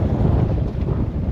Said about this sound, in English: So it is really windy today.